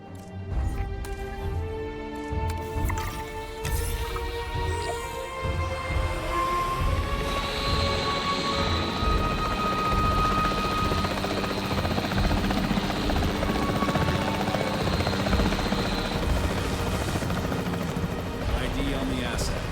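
Capture team helicopter in the video game Jurassic World Evolution 3, a steady loud rotor drone lasting throughout, with game audio and voices talking over it.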